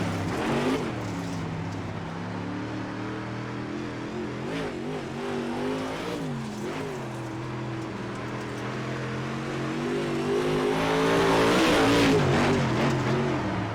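UMP modified dirt race cars in an iRacing heat race at Limaland Motorsports Park, engines snarling and rising and falling in pitch as they lift and accelerate through corners, swelling louder toward the end.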